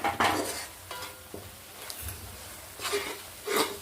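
Chicken pickle stirred in a metal pot, with uneven spoon scrapes and occasional clinks against the sides, close and moderately quiet.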